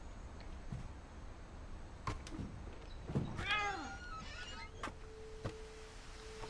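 A cat meows in the video game What Remains of Edith Finch, a short rising and falling call set over steady low ambience with scattered clicks, fairly faint and with no talk.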